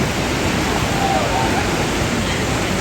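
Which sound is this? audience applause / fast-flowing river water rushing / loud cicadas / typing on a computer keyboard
fast-flowing river water rushing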